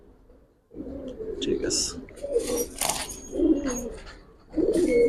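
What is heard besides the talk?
Bagha pigeons cooing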